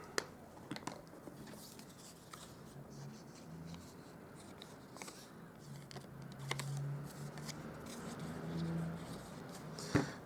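Scissors trim a cardstock layer around its edge while making a Stampin' Up! corrugated nature card, giving soft, scattered snips and paper rustles at close range over a quiet room, with faint handling noises between cuts.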